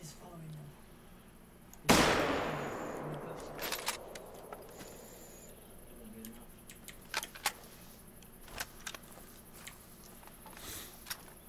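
A rifle fires once while hunting buffalo in theHunter: Call of the Wild, a sharp, loud crack followed by a long echoing decay across open ground, then quieter scattered clicks and rustles.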